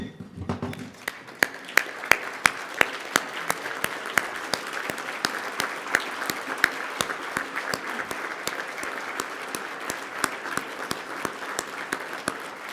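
An audience at a jubilee gala stands and applauds, sustained dense clapping with sharp individual claps standing out, steady and close throughout.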